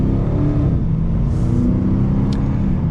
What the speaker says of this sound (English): So setting off now in the Challenger.